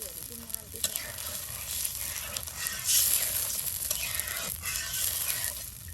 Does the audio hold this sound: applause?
no